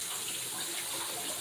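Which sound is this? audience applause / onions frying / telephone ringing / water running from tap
water running from tap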